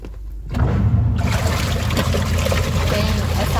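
Tap water runs steadily into a laundry tub of a washing machine used for everyday and delicate clothes, a continuous close splashing flow that starts abruptly after a brief quiet moment and holds steady.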